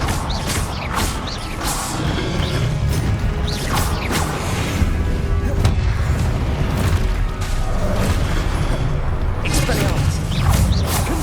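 Spell-casting explosions from the Hogwarts Legacy video game boom and crash in rapid succession over a dense, loud magical battle din, with a voice shouting spell names over it.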